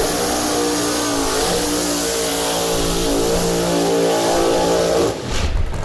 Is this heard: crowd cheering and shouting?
no